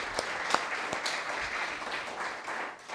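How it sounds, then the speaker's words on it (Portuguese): Congregation applauding in a church service in praise of the Holy Spirit, steady clapping from a crowd with a few sharper claps standing out. "Mais palmas ao Espírito Santo, que hoje está tremendo, hein?"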